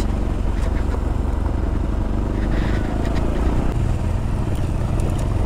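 A motorcycle rides along a dusty gravel road with a steady, close engine drone and some clatter, continuous throughout with no talking.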